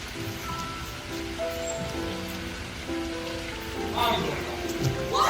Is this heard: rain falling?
yes